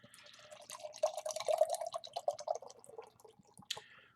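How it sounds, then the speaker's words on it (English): Omnipollo Agamemnon, a 12.5% maple imperial stout, poured from the bottle into a glass: a soft, close trickle and glug of thick liquid that builds and bubbles for a few seconds, with no voices. "Let's give it a pour and try it out."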